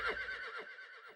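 A horse sound effect gives a single loud, shrill whinny that wavers and trails downward over about a second, heard alone and close.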